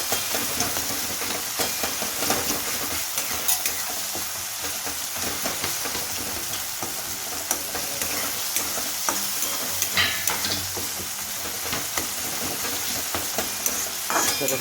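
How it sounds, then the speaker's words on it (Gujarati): Tomatoes being stirred and mixed into masala in a pan, a continuous dense sizzle with repeated scraping of a spoon against the pan, close and fairly loud, with no talking. "ટામેટા થોડા મિક્સ કરી લઈએ."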